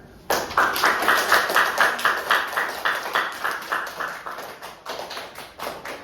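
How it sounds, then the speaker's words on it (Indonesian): Students give a round of applause at the close of a school debate, a nearby group clapping in a fairly unified rhythmic beat, loud and steady for several seconds before loosening and thinning toward the end. "Mari kita berikan tepuk tangan"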